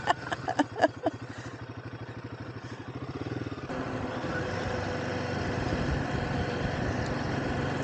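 A Royal Enfield Himalayan 450 motorcycle rumbles steadily while being ridden, opening with a few sharp knocks before settling into a continuous engine drone and wind noise.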